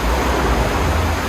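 Water sloshing and surging in an overflowing pool on a cruise ship at sea, a dense steady wash of broadband noise, loud and close, with no talk.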